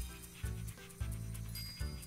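A dog in the video game Doggie Dash pants in quick, short rhythmic bursts, several breaths grouped close together at a moderate, near level.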